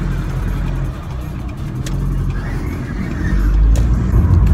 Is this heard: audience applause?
no